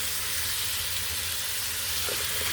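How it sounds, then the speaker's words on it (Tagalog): Chicken liver sautéing with onions in a pan, a steady close sizzle and frying hiss running throughout, with a slight clink of a utensil near the end. "Gisain natin mabuti bago natin lagyan ng mga ingredients."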